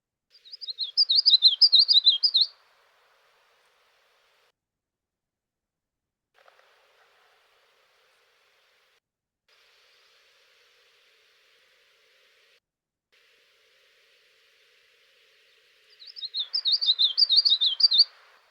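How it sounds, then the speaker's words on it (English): Male common yellowthroat singing in a marsh, two bright rapid bursts of song at the start and end with near silence between, loud and close, no talking. "So that is, for the most part, the male common yellowthroat singing."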